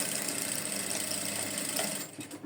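A sewing machine stitching a trouser pocket runs in a steady, continuous mechanical whir at close range, then slows and stutters to a stop near the end.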